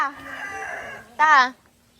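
A rooster crows once, loud and close, after a stretch of background chatter and noise.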